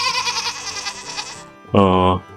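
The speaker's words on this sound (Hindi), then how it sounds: "यहाँ पर है बहुत सारी बकरियां।" Goats and lambs bleating in a village farm pen near Marburg, Germany, a wavering nearby bleat followed by a louder, harsher one close to the listener.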